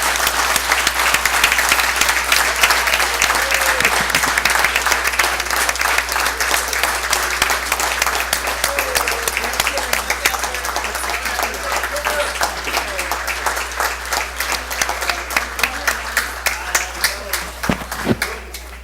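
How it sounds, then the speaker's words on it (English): A large crowd at a school board meeting applauds with loud, steady clapping that keeps going the whole time, with no break or fade. "let's give a round of applause for everything."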